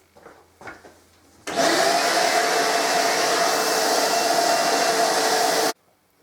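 A vacuum cleaner hoovers up silicon carbide sanding dust from a guitar body being French polished, a steady loud broadband roar running about four seconds before cutting off abruptly, with faint handling noises ahead of it.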